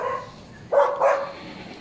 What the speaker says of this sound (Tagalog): Ingay yung aso.